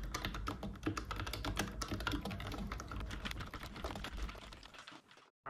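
Fast, dense keystrokes rattle on a computer keyboard during a typing speed test, a steady close-up clatter that runs for several seconds and then stops abruptly.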